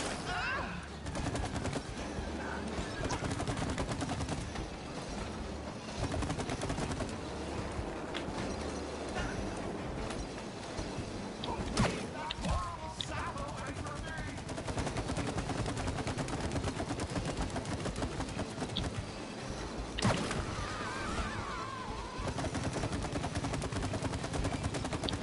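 Rapid bursts of gunfire from a shooting game, fired at a target in repeated volleys over a steady bed of game sound, with voices talking throughout.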